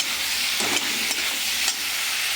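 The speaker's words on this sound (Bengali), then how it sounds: "এবার নাড়াচাড়া করে ঢাকা দিয়ে দেবো।" Vegetables stirred in a pan with salt and turmeric, giving a steady close sizzle with a few scraping strokes of the spoon, no talking.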